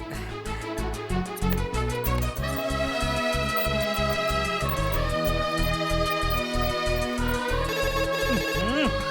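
A mobile phone ringtone plays loudly and continuously, a bright melodic electronic tune with a steady repeating beat that keeps ringing for several seconds without anyone answering.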